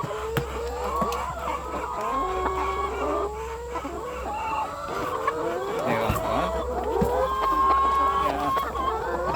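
Many laying hens in a coop in the late afternoon before feeding, giving a dense, continuous chorus of clucks and squawks with a steady low hum beneath and occasional voices.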